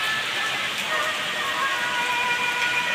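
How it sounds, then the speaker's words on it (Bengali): Rain falls steadily from above onto tree leaves on a wet day, giving a constant, even hiss of dense droplets with no pauses. "এই যে পানি পড়তেছে উপর থেকে"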